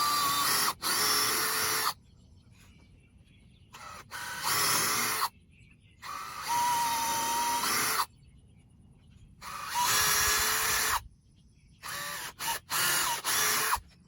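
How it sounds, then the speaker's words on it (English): Power drill boring screw holes through cedar wood for a bat house, several loud whirring bursts of a few seconds each, separated by short silences. "As you can see, cedar drills out very easily."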